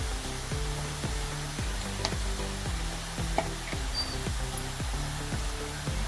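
Ghee sizzles steadily in a pan of gajar halwa while it is stirred, a continuous close frying hiss with a regular rhythmic scraping of the spoon against the pan throughout.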